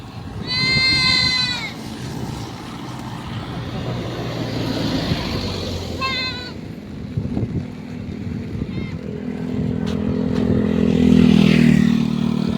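A goat bleats loudly near the start, with another shorter bleat later, over steady outdoor background rumble and passing engine noise.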